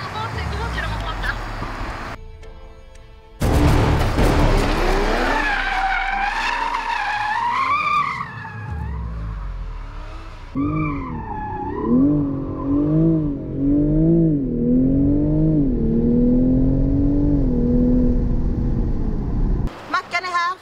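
A Toyota GR Supra and GR Yaris are driven hard on a race track, with engines revving up and down and tires squealing in long skids, loud and close, and a voice speaks briefly at the start.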